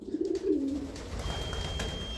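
Racing pigeon cooing in the loft after a 152 km race, a close low coo at the start that fades into a quiet background with a thin steady tone.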